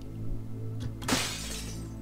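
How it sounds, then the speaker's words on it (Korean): Glass shatters in a Korean horror RPG Maker game set in a school. After a low hum and two soft thuds comes one sharp, bright smash that decays quickly, with no voices. "유리가 깨지는 소리가 들렸다"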